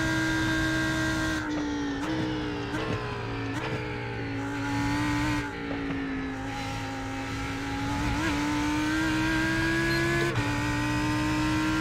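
Race car engines in the iRacing 24 Hours of Daytona endurance race, a loud continuous droning whine whose pitch bends and shifts as cars sweep past, with no pause across the whole stretch.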